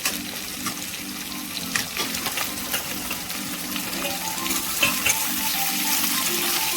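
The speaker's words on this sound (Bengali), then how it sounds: "হালকা তেলে ফ্রাই করবো, বেশি না। গ্যাসটা পুরো হাই ফ্লেমে থাকবে।" Prawns fry in a little oil over a high gas flame, giving a steady, close crackling sizzle with occasional spits and pops throughout, no voices.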